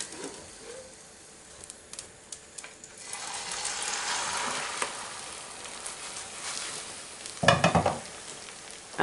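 A large pan of Spanish tortilla with collejas and ham frying, soft sizzling that swells after the tortilla is flipped, with a few scrapes and a louder clattering burst near the end.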